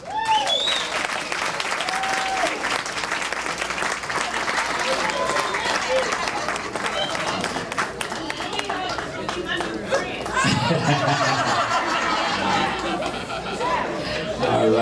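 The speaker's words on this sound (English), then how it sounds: "Let's have a nice round of applause one more time for Miss Williams." A crowd at a community honoring event applauds loudly and steadily for Miss Williams, with cheers, whoops and chatter mixed into the clapping throughout.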